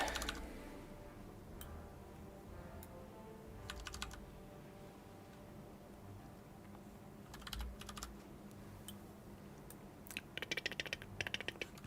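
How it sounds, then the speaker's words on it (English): Typing on a computer keyboard at a gaming desk, with a steady patter of soft key clicks and occasional sharper bursts of fast keystrokes, fairly quiet and close. "typing."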